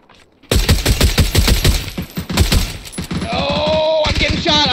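Rapid automatic gunfire hits close and loud in PUBG, a dense burst of sharp cracks for a few seconds that gives way to ringing, whistling tones.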